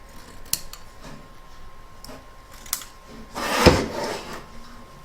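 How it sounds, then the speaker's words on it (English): Scissors snip away excess quilt batting around a machine-embroidered mandala notebook cover, a few sharp isolated clicks followed by a louder, longer cutting rasp near the end, close and quiet with no talk. "Trim away the excess batting."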